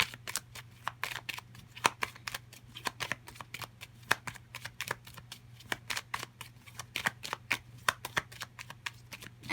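Tarot cards shuffled and handled in a steady run of crisp, rapid riffling flicks and slaps, close and fairly quiet over a low steady hum, with no talking.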